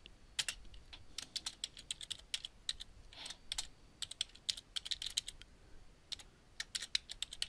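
Computer keyboard typing code, bursts of crisp key clicks in uneven runs with brief gaps, close and fairly quiet, no talking over it.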